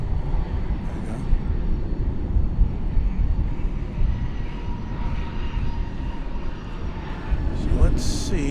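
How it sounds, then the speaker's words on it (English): A plane's engine roars steadily at DFW Airport, a continuous broadband rumble that swells slightly near the end, heard from a moderate distance with a faint voice in the background. "So let's see if we can find this plane."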